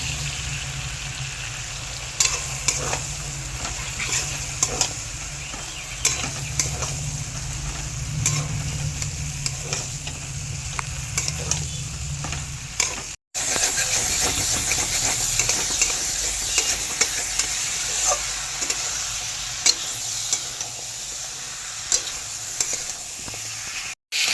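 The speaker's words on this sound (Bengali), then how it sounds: "মশলার সাথে সবজিগুলো খুব ভালো করে কষিয়ে নিয়েছি।" Cubed potatoes and brinjal cook in spice masala in a hot pan, giving a steady loud sizzle and hiss with occasional scrapes of stirring, and no talk.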